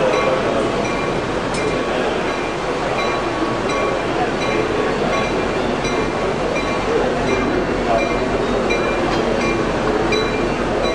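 An MTS Coaster commuter train with an F40 locomotive rolls past near the yards at night, a steady, fairly loud rumble of wheels and cars with faint metallic clinks throughout.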